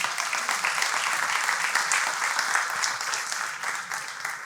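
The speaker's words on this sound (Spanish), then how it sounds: "Démosle un aplauso al Señor" Sustained applause from a church congregation fills the sanctuary, steady and dense from start to finish, without talk over it.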